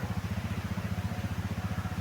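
A motorcycle engine chugging nearby with a steady, rapid low pulse, loud and continuous throughout with no talk.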